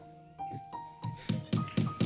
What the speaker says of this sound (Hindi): हथौड़ी की भी आवाज नहीं आनी चाहिए